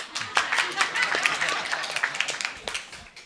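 Scattered audience clapping in a conference plenary hall, uneven individual claps close by, some voices under the applause, fading toward the end.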